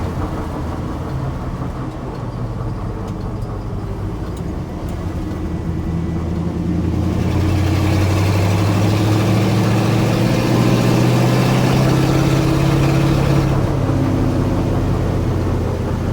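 A restored Dodge W200 pickup engine runs steadily under driving load, its low rumble swelling and surging unevenly midway as it stumbles and falls flat as if starved of fuel, close and continuous with no talk.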